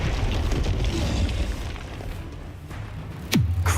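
Confringo blasting-spell explosion in Hogwarts Legacy, a loud booming blast with rumbling fire, followed by a sharp descending whoosh and a second burst near the end.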